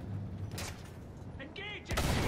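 Gunfire aimed at a tank in the video game Battlefield 1: a couple of sharp, broadband bursts over a dense battle-noise bed, with a voice briefly audible in between.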